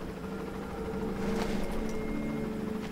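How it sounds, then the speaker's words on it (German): A helicopter in the Far Cry tropical islands hums as a steady, droning engine tone. It is moderately loud and continuous, with faint background game noise. "Und da ist schon der erste Helikopter."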